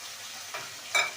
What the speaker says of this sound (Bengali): এবার মুগ ডালটাকে ভেজে নেব